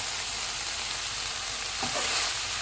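Onions and green chilies frying in a pan over a full flame, a steady broad sizzle throughout with a brief stir or scrape near the end.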